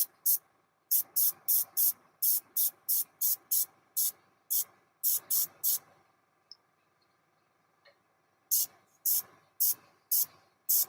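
An airbrush sprays paint to build up and blend duckling feathers, giving short, sharp hissing bursts in quick repeated rhythm, close and clear, with a quiet gap midway before the bursts resume.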